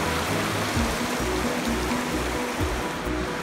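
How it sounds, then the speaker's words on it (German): A river swollen after heavy rain rushes past close by, a continuous dense roar of churning water with no pauses. "because it was raining too much here and the river is up."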